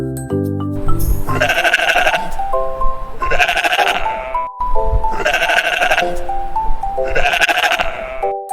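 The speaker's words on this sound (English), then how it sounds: "It's a sheep." A sheep bleats in several long, wavering calls at regular intervals, loud and close, over light playful background music.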